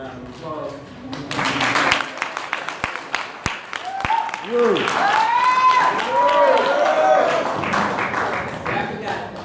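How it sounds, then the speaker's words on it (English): Conference audience applause in Washington: a burst of hand clapping with a few sharp claps, fading as voices and calls rise from the crowd, fairly close and lively. "Another round of applause."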